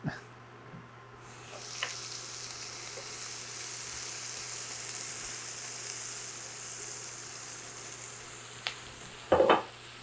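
Celeriac sizzling in a pan as it starts to roast, a steady soft hiss throughout with occasional utensil clinks and a louder scrape near the end.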